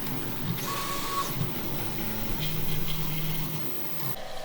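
A 3D printer printing clamps for a tool rack whirs and whines with shifting stepper-motor tones, a steady, moderately quiet mechanical hum throughout with no talk.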